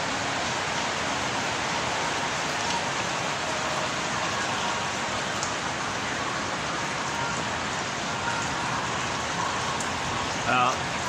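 Steady rain falls over an outdoor scene, a dense even hiss running unbroken throughout at moderate level, with faint murmuring in the background.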